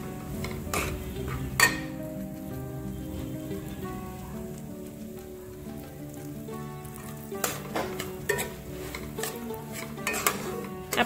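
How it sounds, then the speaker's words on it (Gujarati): Amrut paak, a dry fruit milk cake mixture with semolina added, is stirred in a pan, with soft scraping and intermittent sharp clinks of the utensil against the pot over a low sizzle. "હવે મમ્મી એને હલાવી રહ્યા છે"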